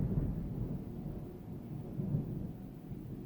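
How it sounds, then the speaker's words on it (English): Low, rolling thunder rumbles steadily from a storm outside, a deep muffled roar that swells twice without any voices over it. "That was some big old thunder."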